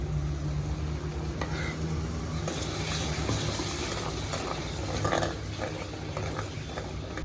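Ground masala paste for katachi amti is sautéed in a pan, a continuous moderate sizzle and bubbling with occasional stirring scrapes, fairly even from start to finish.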